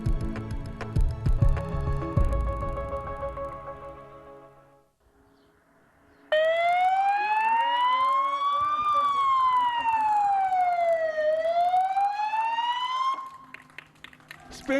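A police car siren sweeps slowly up and down in loud, clear wails through streets in Spain, preceded by music and a brief lull.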